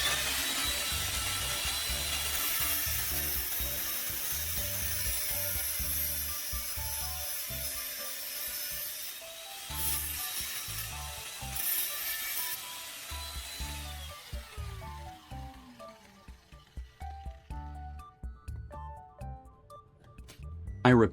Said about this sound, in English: I secured the first strip in a vise and used the angle grinder with a cutting disc to shape it into the first